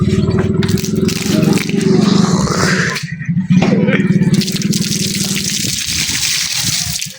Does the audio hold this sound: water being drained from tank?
yes